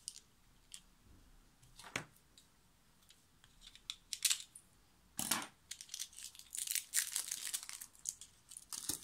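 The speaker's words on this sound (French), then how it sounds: "Alors, donc on va déballer tout ça." Plastic packaging around an ink stamp and pad is torn and crinkled open, with sharp irregular crackles and rustles close by that grow busier toward the end.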